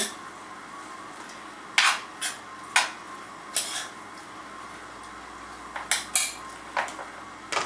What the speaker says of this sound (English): And about 4 ounces of sliced fresh mushrooms. And I'll toss them in there too.